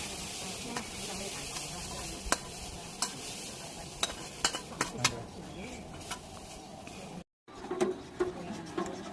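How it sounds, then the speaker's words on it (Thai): Noodles stir-fried with soy sauce sizzle in a pan at a street noodle shop, with a spatula clanking and scraping at irregular beats close by, briefly cut off near the end. "บะหมี่ผัดซีอิ๊วนะครับ"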